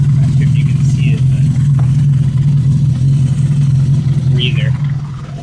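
Honda CB350F motorcycle engine running after a cam chain adjustment, a steady loud low idle close by that fades slightly at the end.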